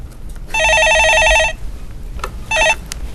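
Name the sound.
telephone ringing, incoming call to a call-in show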